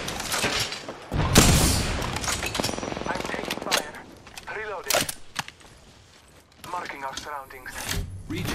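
Gunfire in the Apex Legends video game, with bursts of rapid automatic shots mixed with loud game effects and voice callouts, busy and close throughout.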